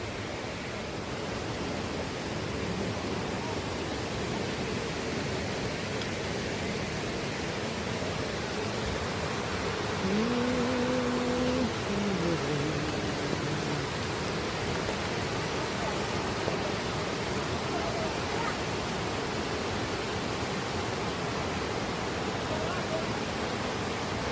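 Steady broadband wash of rain over hill country with a flowing stream, continuous and fairly loud throughout, with a brief faint tonal voice-like sound partway through.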